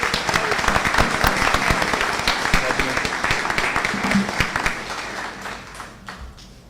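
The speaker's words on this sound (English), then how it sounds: "Let's give them a big round of applause." Steady applause from an audience at a school district board meeting, dense clapping that holds for several seconds and then gradually thins and fades.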